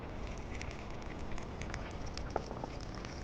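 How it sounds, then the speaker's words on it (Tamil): Shallots and garlic dropped into hot sesame oil in a clay pot give a soft steady sizzle with scattered small pops and crackles, heard close and low with no talk. "இப்போ நெக்ஸ்ட்டு சின்ன பூண்டு வெங்காயம் இதை நம்ம முதல்ல இதில் போட போகிறோம்."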